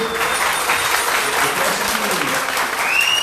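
Audience applause during a council session: steady, dense clapping from a crowd, sustained and fairly loud throughout with no clear pauses.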